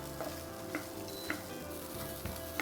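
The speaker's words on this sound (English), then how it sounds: "So we're just going to roast it again on medium heat." Fresh coconut roasts in a pan over medium heat, giving a soft, steady sizzle with faint scattered ticks and crackles, quiet and continuous throughout.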